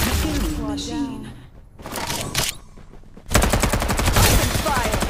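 Loud rapid automatic gunfire bursts in the battle-royale game Farlight 84, with a brief lull before a sustained dense fusillade, mixed with game voice lines.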